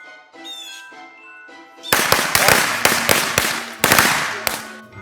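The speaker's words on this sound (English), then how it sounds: "You lighting firecracker?" A string of firecrackers goes off in rapid, loud, crackling bursts after a short whistling squeal as it is lit, heard up close.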